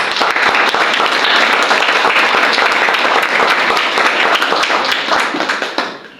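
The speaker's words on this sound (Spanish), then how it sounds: "Denle un aplauso al Señor." A church congregation breaks into loud, sustained applause, a dense crowd of clapping hands that holds steady for several seconds and then fades out near the end.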